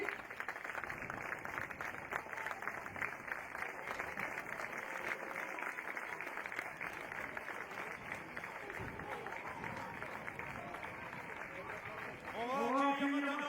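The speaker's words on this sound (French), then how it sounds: "On peut les applaudir." Crowd applause for the FC Soisy youth football team during the team parade at the Mondial Pupilles tournament in Colmar: a dense, continuous wash of clapping and crowd noise that swells near the end.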